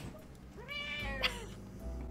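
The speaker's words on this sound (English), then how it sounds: "Hello, Miss Cat." A cat gives one drawn-out meow with rising and falling pitch, close and fairly clear over a low room rumble, followed by a brief soft sound.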